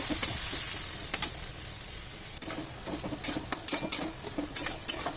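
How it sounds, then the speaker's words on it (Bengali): Spice paste for a Bengali katla fish and potato curry is stir-fried in a pan over medium-high heat. A steady hiss runs under sharp, irregular scrapes and taps of the spatula, which quicken toward the end. "মশলার পেস্টটা দিয়ে ভালো করে কষিয়ে নিতে হবে।"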